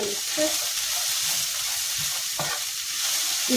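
Chicken curry with spices and cashews sautéing in a pan, a soft steady sizzle beneath occasional scraping stirs of a spoon, close and fairly quiet with no one speaking.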